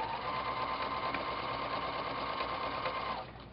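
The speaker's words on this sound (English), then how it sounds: "we're going to sew right to the edge of the corner." A sewing machine runs in one continuous, steady whir while stitching quilt binding through the layers right to the corner, close and even, then stops abruptly near the end.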